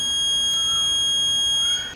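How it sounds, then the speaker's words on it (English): Front door buzzer in a garage workshop during a Ferrari 308 GTS restoration, a loud, continuous high-pitched electronic tone held steadily without pause. "I gotta go turn that buzzer off, that front door"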